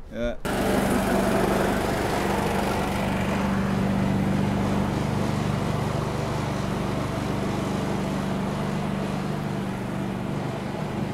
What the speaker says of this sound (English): there goes Graham on his mower, steadfast as ever